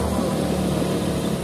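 A Yamaha 25 two-stroke, twin-carburettor outboard motor idling on a boat, a steady low, even drone with no talk over it.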